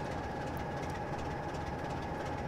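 A Superclass 47 diesel locomotive in Train Simulator 2017 gives off a steady, heavy low engine rumble with dense broadband noise, continuous and even throughout without speech.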